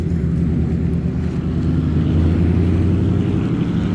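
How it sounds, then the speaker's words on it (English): A truck rolls past on a street during an outdoor walk in Dearborn, Michigan, giving a loud, steady low engine rumble that stays close for several seconds, with no talking. "That's a purty truck."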